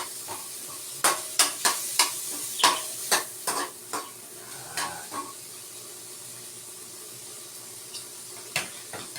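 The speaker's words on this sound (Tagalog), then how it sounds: "Nag-golden brown na, shoot natin yun, bawang." Garlic frying in a pan while cooking pakbet: a soft sizzle under a string of sharp scraping and tapping stirs against the pan, busy at first and then thinning to a few strokes, close and with no voices.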